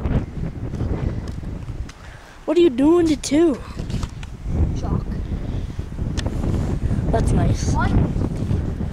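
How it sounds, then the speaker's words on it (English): Strong, cold wind buffets the microphone in a constant roar while people talk outdoors in light sprinkling rain, with a brief high whistling tone partway through. "Oh, it's so windy."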